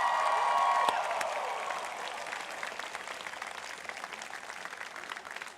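Class of 2018 at a College of Charleston commencement applauds families and loved ones, dense clapping from a large crowd rising after an early hum, then holding steady and moderately loud throughout.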